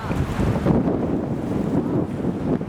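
Strong wind gusts of around 30 buffet a sailboat at sea, a loud rushing roar with microphone wind noise that swells and eases, water faintly washing underneath.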